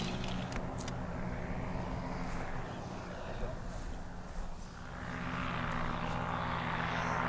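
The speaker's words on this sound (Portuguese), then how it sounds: "Nathan, ali ele vai voar já" A paramotor engine drones steadily overhead as the powered paraglider takes off and flies low, a continuous propeller buzz that swells slightly toward the end.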